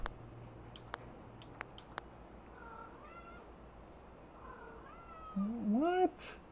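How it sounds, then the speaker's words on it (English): A cat meows several times near the end, rising, drawn-out calls that are close and clear, after a quiet stretch with a few faint ticks and soft background noise. "I don't know if you heard her meowing, but she wants something."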